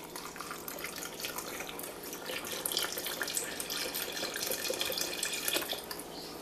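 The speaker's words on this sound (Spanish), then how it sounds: "Y le voy a agregar caldo de pollo." Chicken broth is poured into a pot, making a continuous close liquid stream that runs steadily for several seconds with no talking.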